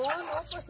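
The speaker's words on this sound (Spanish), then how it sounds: "Son 3 gallinas que salieron de gallinero y andan haciendo eso." Three hens loose from a ranch coop, clucking in a short, close burst of clucks.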